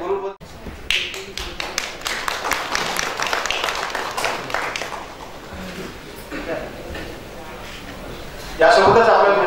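Audience at a university lecture hall event bursts into loud, dense applause right at the end, following a stretch of scattered taps and claps under a speaker's voice.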